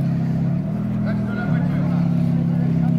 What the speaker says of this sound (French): Ferrari F512 qui vient